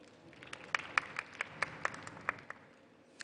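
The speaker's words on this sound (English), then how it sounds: "we all deserve a round of applause" Scattered, sparse hand claps from a small part of the audience at the National Women's Summit & Expo 2023, about eight distinct claps over a soft hall background, fairly faint and unhurried.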